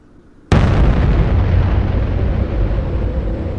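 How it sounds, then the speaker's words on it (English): A large explosion, used as a sound effect in a tabletop role-playing game, hits suddenly with a loud blast and then rumbles on as a long, dense, sustained roar. "There is a large explosion."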